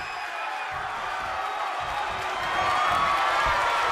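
A wrestling arena crowd cheers and roars during a women's United States championship match in WWE 2K24, a dense continuous din that swells louder toward the end.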